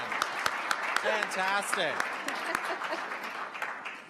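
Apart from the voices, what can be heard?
audience clapping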